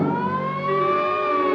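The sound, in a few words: siren, probably an ambulance or police car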